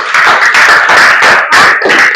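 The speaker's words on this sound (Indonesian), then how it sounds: "Tepuk tangan untuk Maulana." A classroom of students bursts into applause for a classmate during a teacher training lesson, a dense, steady patter of many hands clapping close by for about two seconds with no talking.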